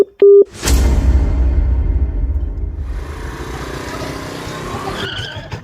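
A truck pulls up, its engine rumbling loudly and steadily for several seconds after a brief tone at the start, with a short sharper sound near the end.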